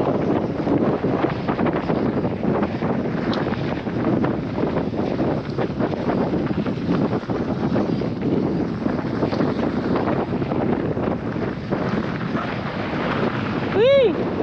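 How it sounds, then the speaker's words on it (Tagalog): Strong wind roars steadily across the microphone on Mount Uhud, a constant heavy rush that never lets up. "Lakas ng hangin, men."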